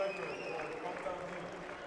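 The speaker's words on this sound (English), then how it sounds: "Big cheers from the Luxembourg crowd, very happy with the scoreboard, so giving a big cheer to the players being replaced" A Luxembourg rugby crowd at a Rugby Europe Conference match against Slovenia gives a sustained, distant cheer and applause for substituted players, a broad steady wash beneath a commentator's voice.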